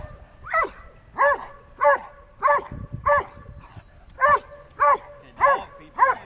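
A dog barks repeatedly at a protection dog training seminar, roughly ten evenly spaced sharp barks, close and clear, with quiet background rustle between them.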